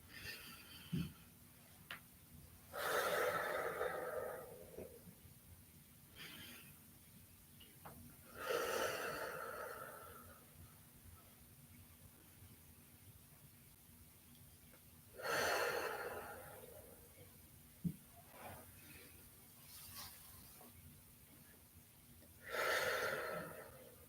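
Deep, audible breaths during a beginner yoga exercise, four long breathy swells spaced through the stretch with quieter breathing and faint ticks between, close and alone with no talking.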